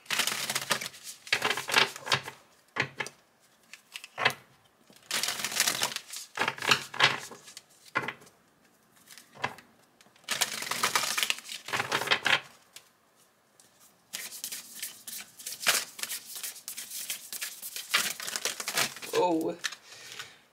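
Tarot cards being shuffled and handled during an Aries reading, giving repeated bursts of crisp riffling and slapping, close and fairly loud, broken by short pauses, with a voice talking over parts of it.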